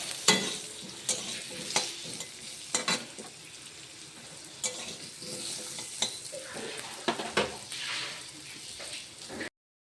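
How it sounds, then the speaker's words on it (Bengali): Potatoes fry in oil in a kadai under a soft continuous sizzle, stirred with regular scraping strokes of a spatula, close but fairly quiet, ending abruptly. "এরপর কড়াইতে তেল দিয়ে আলুগুলো ভেজে নেব।"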